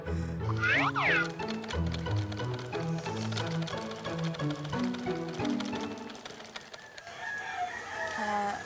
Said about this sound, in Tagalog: Bakit nagtatahi pa po kayo?